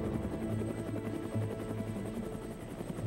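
Huge transport helicopters, such as CH-53 and CH-46 types, approach a cleared landing zone at an embassy in 1975 with a steady, loud, throbbing rotor and engine drone that continues without a break.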